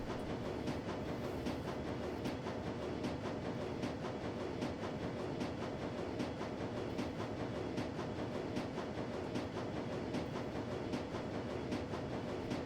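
Steady train ambience from the video game Shadowrun: Dragonfall, a continuous rumbling rattle with regular rhythmic clacking of wheels on track, moderately loud and unbroken, without voices.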